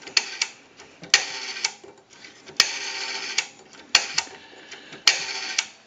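The rotary dial of an Automatic Electric three-slot payphone is turned and returns repeatedly, each pull giving a sharp click followed by a whirring ratchet of pulses, heard several times in a row up close.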